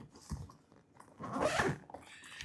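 A Peak Design Roller Pro suitcase being unzipped and opened, a short rasping zip pull followed by soft handling scrapes and rustles, close and moderately loud.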